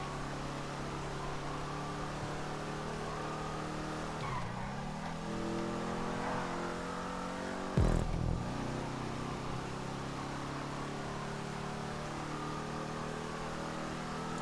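Engine drone of an Enus Stafford, a big, slow luxury car driven in Grand Theft Auto 5, holding a steady low hum with a brief tire skid and shift near the middle, no talking.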